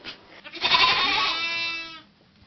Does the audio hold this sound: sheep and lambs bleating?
yes